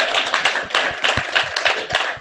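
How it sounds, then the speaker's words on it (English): Small crowd clapping at a DerbyCon security podcast gathering, a brief, moderately loud burst of close hand claps with a few individual taps standing out, no talk over it. "So yeah, round of applause"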